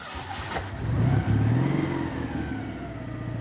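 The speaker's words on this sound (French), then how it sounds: "La 2 chevaux et son inimitable bruit de moteur." Idling Citroën 2CV small two-cylinder engine, a steady near throaty rumble that swells briefly into a rev before settling back to a running idle, no talk.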